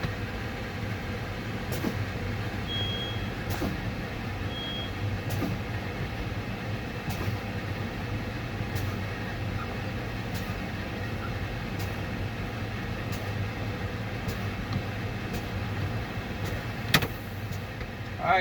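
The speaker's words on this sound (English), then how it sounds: "We're going to repeat the process of fanning our brakes." Air brakes on an idling truck are fanned repeatedly during a spring brake pop-out test, giving short sharp air bursts about every one to two seconds over a steady engine drone.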